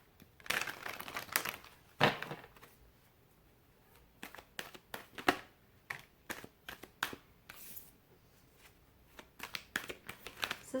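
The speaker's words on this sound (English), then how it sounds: "Do one more shuffle." Tarot cards being shuffled by hand for a weekly Virgo reading, heard as irregular bursts of crisp riffling and slapping, moderately close and fairly quiet, with short pauses between shuffles and no talk.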